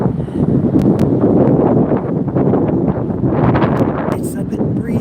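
Strong, gusty wind buffets the microphone on the Brooklyn Bridge near the Manhattan side. It makes a loud, continuous rumbling roar that swells and dips for several seconds.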